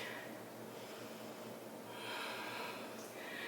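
Slow, steady yoga breathing, airy nasal inhales and exhales up close in a quiet room, with the breath swelling audibly a couple of times.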